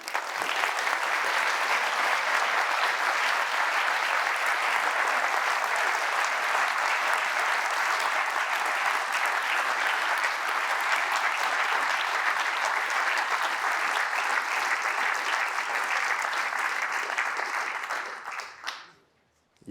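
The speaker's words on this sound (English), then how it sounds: "I want you to give a nice round of applause" A large conference audience gives a long, sustained round of applause for the JH team at a closing keynote, dense, even clapping that stays full for most of the clip before fading out quickly at the end.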